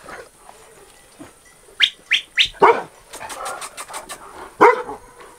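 A Carpathian shepherd dog barks outdoors: three quick barks in a row, a pause, then one more loud bark, with birds chirping faintly in the background.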